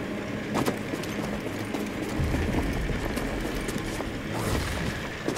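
Horse hooves clip-clopping in a steady rhythm amid rumbling sound effects and mechanical clatter in a Star Wars Jedi video game, close and fairly loud.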